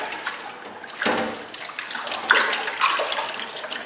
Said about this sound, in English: I'm soaking this so I can easily wash this in soapy water.